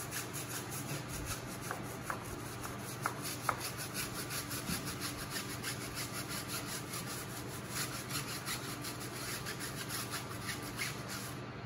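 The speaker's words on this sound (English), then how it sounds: "We're going to take our stiff bristle brush. We're going to agitate. Try to break loose all of that grime." A stiff bristle brush scrubs a grimy tire on a 2021 S550 during professional detailing, giving a steady, close scratchy rubbing that runs throughout with a few sharper ticks early on and no talking.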